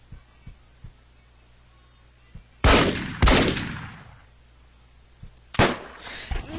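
Shotgun blasts ring out in the video game Deadbolt: three sharp, loud bursts, the first two close together and the third after a pause, over a low throbbing hum with faint thumps between shots.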